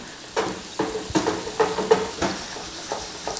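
A butter and flour roux cooking in a pan, soft sizzling under a series of rhythmic stirring and scraping strokes, about one every half second, close by.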